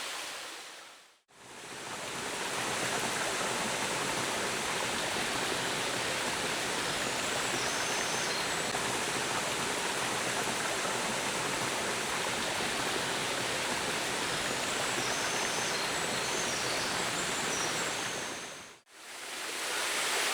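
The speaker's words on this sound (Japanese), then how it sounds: "ちょろちょろの滝なんですけど、なんかすっごい空間です" Steady rushing water from a small trickling waterfall in rural Tokushima, Shikoku, spills continuously, a broad even wash of sound with no voices, fading in and briefly cutting out at the ends.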